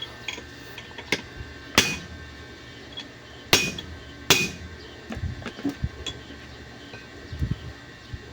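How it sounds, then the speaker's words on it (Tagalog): Metal hammer strikes knocking a broken bearing off the crankshaft of a diesel boat engine: a handful of sharp, ringing clanks spaced irregularly, some louder than others, against a low background hum. "ito lang yung pinupukpuk lang para matanggal yung sirang bearing"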